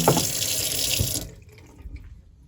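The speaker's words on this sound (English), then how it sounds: "So in the sink, turn on the water, and then just fill up just this half." Water runs from a sink faucet into a plastic paint basin, a close, steady splashing rush for over a second that then shuts off, leaving faint drips and small knocks.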